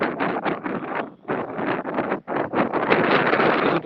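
Strong outdoor wind buffets the microphone, a loud continuous rumbling roar with brief dips, heard alone.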